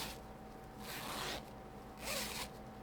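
A zipper on a hand-knit bag with a sewn-in lining is pulled in two smooth, close strokes, each a soft rasping run of about half a second with a quiet pause between.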